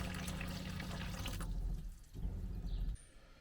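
Water runs through the taps and pipes of a campervan's plumbing, a close, steady gushing that cuts off abruptly, resumes briefly, then stops, leaving quiet drips.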